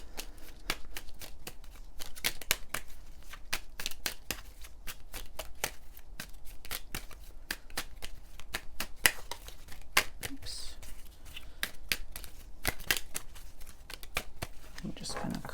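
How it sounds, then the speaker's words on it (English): A deck of tarot cards is shuffled and cut, giving repeated crisp riffling flicks and slaps in an irregular, steady stream up close, with brief murmured talking now and then. "I'm just going to cut the deck."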